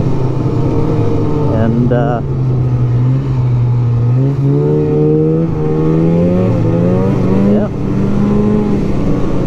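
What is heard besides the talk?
1999 Polaris Indy Classic 500 snowmobile engine driving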